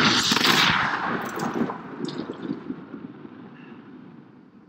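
Rapid bursts of gunfire from The Machines, an augmented-reality video game played on iPhone, crackle loudly at first and then roll on as a fading, rumbling barrage.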